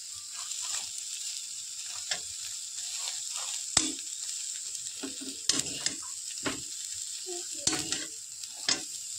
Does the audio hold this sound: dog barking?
no